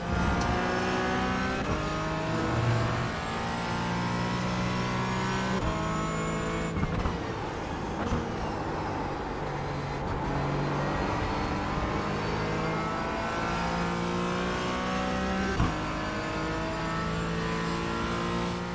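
Race car engine in the iRacing sim, revving steadily through gear shifts, loud and continuous, with tires losing grip and sliding on corner exits.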